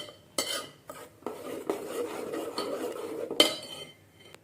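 A spoon stirs a yogurt and ground-coconut curry in a pot, making repeated scraping clinks against the metal at an irregular rhythm, close and fairly soft.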